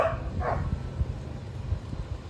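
Neighbours' dogs left outside bark a couple of times at a distance, faint yips over a low rumbling background with no talk.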